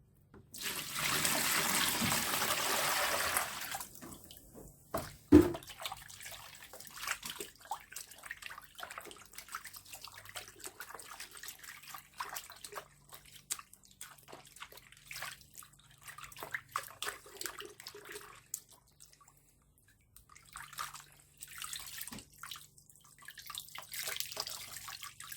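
Water from a tap gushes briefly, then drips and trickles while a Ducati 749/999 air filter is rinsed after washing with car soap, with quieter splashes and handling noises following the initial burst.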